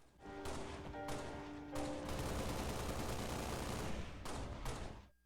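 Sustained rapid gunfire from the video game Halo: Reach, dense bursts of automatic shots rolling on for several seconds with brief gaps, loud and close, no voices over it.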